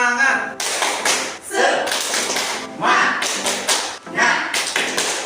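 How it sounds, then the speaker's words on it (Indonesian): A standing group of trainees at a stunting-prevention training session claps together in the quick patterned 'tepuk semangat' rhythm, bursts of close, loud hand claps grouped into repeating phrases with short gaps between them. "kita tepuk semangat dulu"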